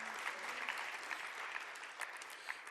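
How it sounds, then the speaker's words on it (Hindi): An audience at an Indian music festival concert applauds steadily, a dense, even wash of clapping from a crowd that holds for the whole stretch without speech. "जोरदार तालियों के साथ।"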